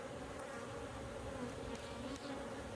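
Angry honeybees swarm from an opened old beehive, a thick, unbroken buzzing drone heard up close throughout, without talk.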